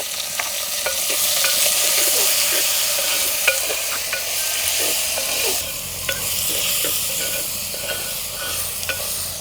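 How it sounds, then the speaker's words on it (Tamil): Tomato and onion with green chilli sauté in a pan, a continuous loud sizzle broken by repeated scraping stirs and clicks of a spoon against the pan. "தக்காளி பழம் வெங்காயம் போட்டு வதக்கி எடுக்க போகிறோம்"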